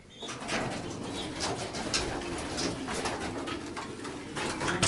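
Young racing pigeons in a loft coo steadily, with bursts of wing flapping throughout; the sound is fairly close, with no talk.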